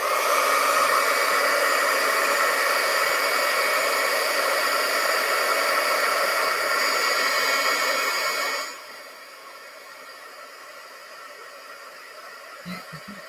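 A hair dryer blows a steady, loud whirring hiss over a watercolor painting, then drops abruptly to a quieter, lower setting for the last few seconds, with a brief knock near the end.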